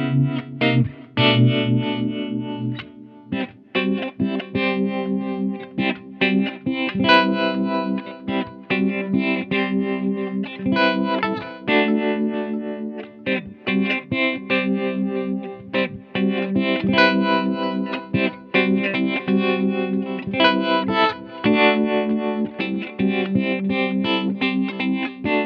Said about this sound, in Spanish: el Flint de Strymon también tiene trémolo, con lo cual podemos activar el trémolo y mira qué bueno que suena